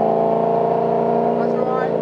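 A Holden HSV VE Clubsport V8 with a bespoke 75mm exhaust, held at a steady high rev, a loud, close, continuous engine roar with no talking.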